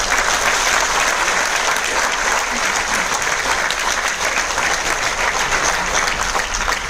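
An audience at a training seminar in Mumbai applauds in a thick, sustained roar of many hands that stays at an even level throughout, with no pauses and no clear talking.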